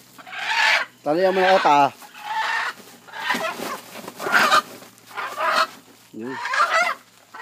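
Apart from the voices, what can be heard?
native chicken clucking while being caught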